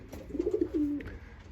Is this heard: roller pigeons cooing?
yes